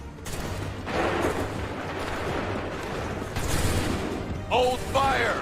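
Musket volleys in Assassin's Creed III: rolling, crackling bursts of massed fire rise and fall over steady battle noise, with shouted voices breaking in near the end.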